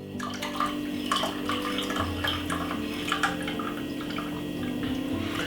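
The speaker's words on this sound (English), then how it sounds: "to strain it you need to get a strainer and simple strain it like this, and you get that nice lovely red color" Redcurrant iced tea pours steadily through a kitchen strainer, a continuous close trickle and splash of liquid with small drips, without any talking.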